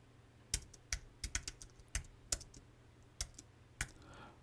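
A name is typed on a computer keyboard: a dozen or so crisp key clicks in uneven bursts, close and fairly quiet, with short pauses between groups of strokes.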